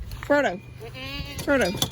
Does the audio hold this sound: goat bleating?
yes